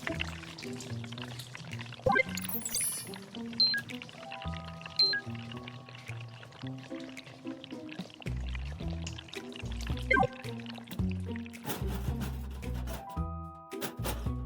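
Water gushes and pours steadily from a clogged, leaking pipe, a continuous liquid flow with gurgling bursts and a clunk or two, loud and close, and no voices over it.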